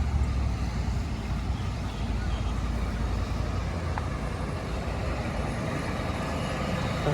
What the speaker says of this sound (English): the pump's still going, so you can hear the noise coming from the distance